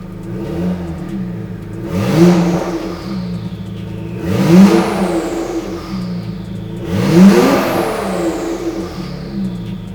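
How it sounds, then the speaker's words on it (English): Three short revs from an Acura NSX engine, each rising quickly into a loud whirring climb with turbo spool and then falling back to idle, close and clear with no talking. "I'll give it a short rev. You can hear the turbo spool"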